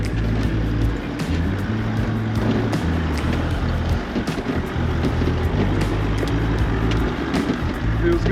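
A Toyota Troopy four-wheel drive crawls up a rough off-road section in first gear with the rear locker engaged, its engine a low, steady, close drone throughout, with faint clunks and knocks over it.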